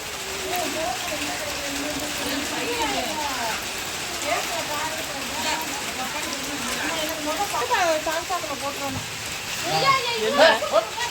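A steady patter of rain hisses in the background while people talk over it throughout.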